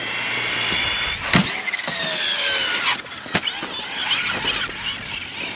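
An Arrma Fireteam RC car whines at speed, then slides through an e-brake skid, with sharp scrapes and bursts of tire noise on loose ground.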